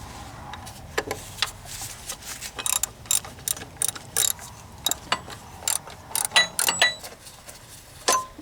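Socket ratchet working 15 mm bolts on the power steering pump of a 1994–2004 Ford Mustang: a rapid string of close, loud clicking bursts with short pauses between strokes.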